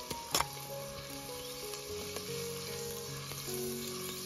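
Tomato and coriander sauté in oil for stuffed brinjal masala, a steady close sizzle with a sharp crackle near the start and faint stirring scrapes throughout, no talk.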